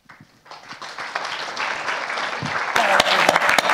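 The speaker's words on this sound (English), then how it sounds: "Maybe reserve the applause for afterwards" Applause at a melanoma patient conference swells from a few scattered claps into full, loud clapping from an audience, growing denser toward the end.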